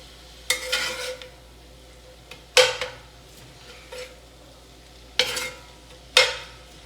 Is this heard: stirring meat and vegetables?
yes